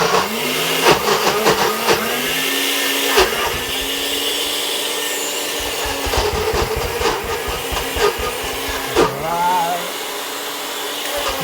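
A NutriBullet blender whirs steadily while it mixes eggs and other ingredients for a quick homemade ice cream, a loud continuous motor drone that shifts pitch now and then, with clatters and occasional voices.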